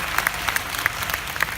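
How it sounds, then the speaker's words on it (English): Applause from a convention audience, dense overlapping claps forming a steady, close wash with sharper individual claps popping out. "Please give Li Wu a big round of applause."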